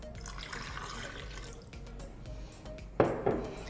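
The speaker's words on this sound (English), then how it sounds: "I'm going to add some water, so it's not very thick" Plain water is poured in while making a smoothie in a kitchen, a sudden close splash and trickle after a few seconds of quiet background.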